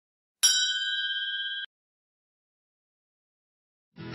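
An electronic notification bell gives one bright, clear ding that rings evenly for about a second, then cuts off; a short burst of other sound enters near the end.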